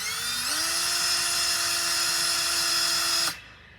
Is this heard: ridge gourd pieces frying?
no